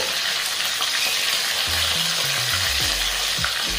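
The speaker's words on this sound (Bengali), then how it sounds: "এবারে এই তেলে আমি মাছগুলো ভেজে নিচ্ছি।" Foli fish frying in hot mustard oil in a pan over a medium gas flame, giving a loud, steady, dense sizzle with a few soft stirring knocks near the end.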